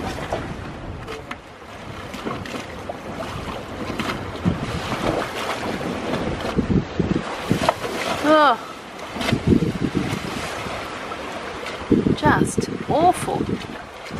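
A strong southwesterly wind of 38 knots buffets a sailboat, roaring and gusting hard against the microphone. Waves and rigging noise come through, and voices speak briefly over the blast.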